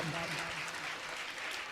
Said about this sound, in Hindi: एक बार आप जोरदार तालियां बजा दीजिएगा